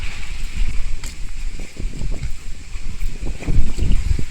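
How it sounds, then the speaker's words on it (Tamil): Strong wind roars steadily and low against the microphone during a rainy, foggy drive in Valparai, a constant rumbling buffeting with brief gusty swells throughout. "காற்று நாலா பக்கமாக வீசுது"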